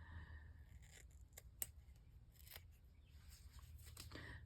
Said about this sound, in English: Where are my scissors?